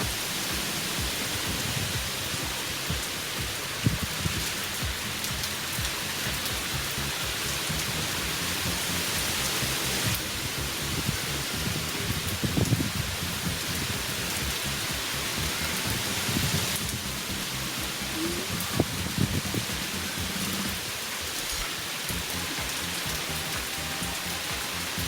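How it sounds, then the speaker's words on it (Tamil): Heavy rain pours down steadily, a dense continuous hiss of drops on surfaces with faint rumbles beneath, no voices over it. "இங்கே மழை சரியாக பெஞ்சிட்ருக்கு."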